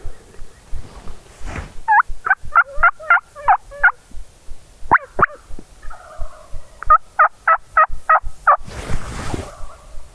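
A wild turkey gobbles in two rapid rattling bursts at moderate distance from its roost, with soft rustling and thumps around them.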